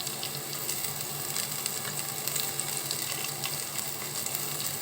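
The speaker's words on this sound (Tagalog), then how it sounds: "At ilalagay ko na ang sibuyas. Sabay ko na yung yan. Igigisa ko muna to." Onion and ginger sautéing in a pan for a milkfish dish: a steady, close, unbroken sizzle and hiss of frying that runs the whole time with no talk over it.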